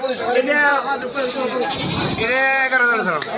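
Goats bleat repeatedly at a busy rural goat market, including a twenty-kilogram goat up for sale. The loud, wavering cries come close and overlap with continuous bargaining talk between people.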